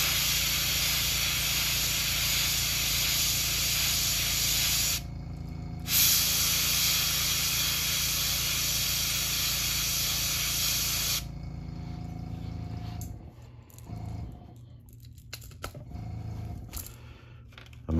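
Airbrush spraying red paint onto a custom crankbait fishing lure, a close steady airy hiss in two long bursts with a brief pause between, then faint rustles and small handling sounds.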